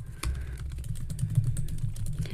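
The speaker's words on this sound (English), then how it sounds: "I'm still going to type on the R script section." Rapid clicking keystrokes on a computer keyboard while writing an R script, a quick irregular patter of light taps close to the microphone with no talking.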